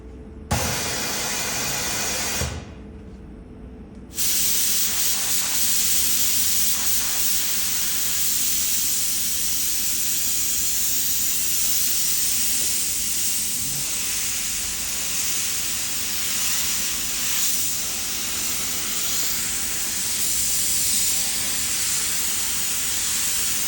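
Steady loud hiss of a spray gun laying a coat of paint on a car part during a local touch-up repair, running almost continuously with a brief pause near the start.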